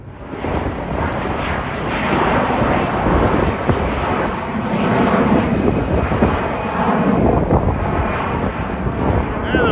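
A loud, steady jet engine roar from a plane near the airport at Dorval, Quebec, fills the whole stretch, broad and rumbling, with wind buffeting the microphone and no talking.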